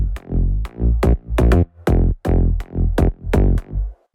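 Punchy synth bass line processed with multiband compression, a run of about ten even, tightly held notes with steady level and rich low harmonics, playing alone with no voices.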